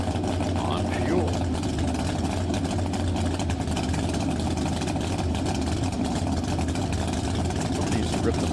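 A small V8 dry lake race car at El Mirage fires up and idles steadily, a muffled rumble heard from nearby over open-air ambience, with people talking around it.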